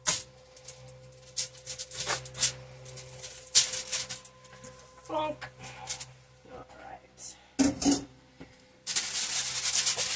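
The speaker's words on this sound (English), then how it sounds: "Now I have regular aluminum foil topped with Reynolds Wrap non-stick aluminum foil here" Regular aluminum foil and Reynolds Wrap non-stick foil being crinkled and pressed onto a metal sheet pan in a kitchen, bursts of crisp rustling and scraping between pauses, with a voice talking over parts of it.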